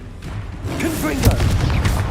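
Confringo fire spell bursting in the wizarding action game Hogwarts Legacy, a heavy booming blast with a crackling tail, mixed with game effects and a voice.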